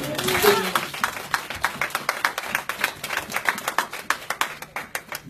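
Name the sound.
congregation applauding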